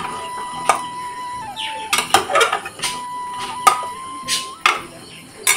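A metal lid is fitted onto a pressure cooker holding vegetables and water for a bamboo-shoot godak: several sharp, close clanks and scraping rattles at irregular intervals, over a faint steady hum.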